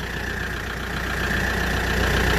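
A Daedong RX570 tractor engine idles steadily just after starting, a close, even diesel chugging with a constant rhythmic knock and a faint whine, and no voices.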